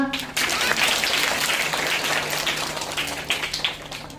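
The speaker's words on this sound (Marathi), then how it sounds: "जोरात टाळ्या द्या एकदा." An audience of children at a village social-organisation event applauds loudly in a dense, sustained burst lasting several seconds, with voices mixed into the clapping.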